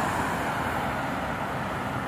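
A car engine running steadily after being started on a rainy day in Madinah, a constant broadband rumble and hiss with no breaks and no talk.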